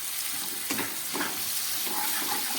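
Broccoli, carrots, peas and capsicum fry in a pan over a low flame for vegetable rice, giving a steady close sizzle with a few soft stirring scrapes and no talk.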